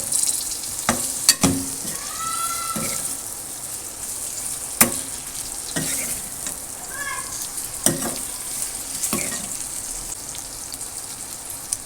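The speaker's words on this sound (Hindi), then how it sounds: "इसको अच्छे से कर लेंगे मिक्स" Lasooray (cordia) pickle fries in hot oil as spices are stirred in, a steady bright sizzle broken by repeated scraping clinks of a spoon against the pan, close and clear with no talk.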